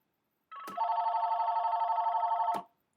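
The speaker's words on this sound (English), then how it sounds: "And why is my phone ringing?" A mobile phone rings nearby with one continuous trilling electronic tone of about two seconds, starting and stopping abruptly, with nothing else audible.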